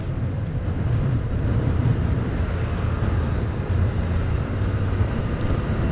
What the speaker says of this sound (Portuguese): para justamente eu poder puxar e você notar como a velocidade dela sobe